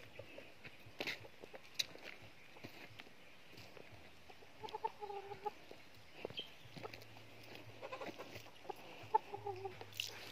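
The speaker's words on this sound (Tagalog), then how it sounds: "Nag-aantay na ang aking mga manok." Backyard chickens, including fighting cocks, cluck intermittently near and at middle distance, soft scattered calls over quiet outdoor ambience, with faint rustling and steps.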